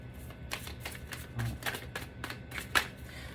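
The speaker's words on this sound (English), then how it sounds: "There's a little shuffle" Tarot cards being shuffled by hand, a run of quick crisp riffling bursts close by, alone with no talk and one sharper snap near the end.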